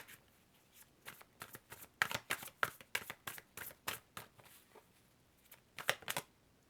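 Tarot cards being shuffled in quick, crisp riffling bursts with short pauses between them, close and fairly quiet, with no talking.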